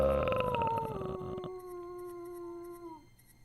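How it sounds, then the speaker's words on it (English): A wolf howls in the King's Quest 2 remake video game, a long, wavering, rising and falling cry that carries clearly for about three seconds before fading out, with faint game ambience behind it. "You freeze as a wolf's howl sends shivers down your spine."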